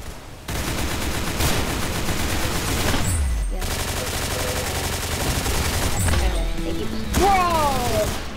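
Rapid gunfire in the Roblox shooter Arsenal, dense, loud, continuous bursts of game weapon shots with crashes and effects layered over game music, played alone without talk.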